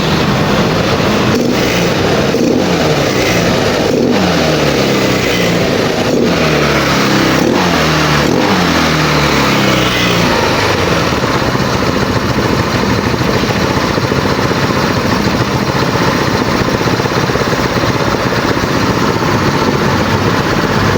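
A motorcycle being troubleshot for erratic revving, with an oil seal leak, starts up and is blipped in a run of quick revs. The revs settle into a steady loud idle near the mic, and no one talks over it.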